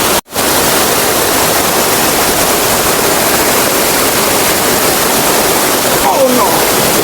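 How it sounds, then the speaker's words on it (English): Loud, steady roar of a jungle waterfall heard up close, a dense unbroken rush with a brief voice rising over it near the end. "Now we will be climbing on the top of this waterfall."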